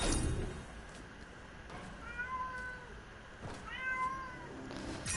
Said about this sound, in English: Don't mind my cat if you hear him meowing.